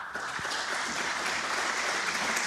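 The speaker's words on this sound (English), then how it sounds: "The applause is for Ricky Walden." Snooker crowd applauds Ricky Walden's 4-0 win over Jamie Clark at the British Open, a steady, dense wash of clapping that holds at an even level throughout.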